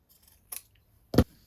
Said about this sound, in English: we're going to cut off the seam allowance, about 1 centimetre